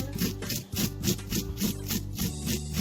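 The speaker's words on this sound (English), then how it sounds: "I'm gonna go ahead and scrape corn." A knife scrapes kernels and juice off fresh corn cobs in steady, rapid back-and-forth strokes, a close, rasping, rhythmic rubbing that continues without pause.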